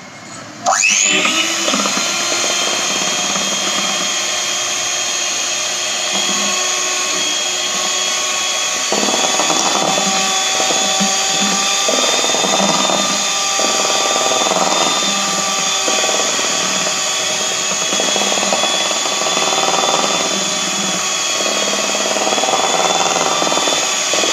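Electric hand beater whisking chocolate coffee cake batter in a bowl, a steady loud whirring motor running continuously throughout with slight rhythmic changes as the beaters move through the mix.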